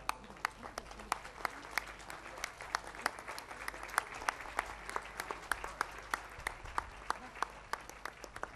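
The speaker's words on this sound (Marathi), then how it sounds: "आपल्या जागेवर उभं राहून कृपया टाळ्यांचा गजर" A seated audience at a Pune gathering gives sustained applause, dense steady clapping with sharp individual claps standing out throughout, heard from within the hall.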